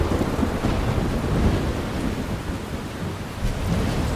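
A thunderstorm in the video game Life Is Strange brings dense, steady rain and low rumbling thunder that hold loud and continuous throughout, with no voices.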